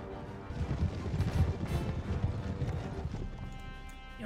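Cavalry horses gallop in the Empire Total War video game, giving dense, rapid, overlapping hoofbeats that swell loud in the middle and carry on steadily over battle noise.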